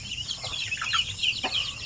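Chickens on a small poultry farm raising chicks for sale, a dense overlapping chatter of clucks and chirps, close and continuous, with no talk.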